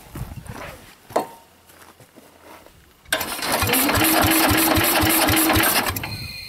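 Sears Super 12 tractor engine being cranked: after a quiet, rustling start, a loud, labored mechanical churning sets in, with rapid rhythmic chugging pulses that sustain for several seconds.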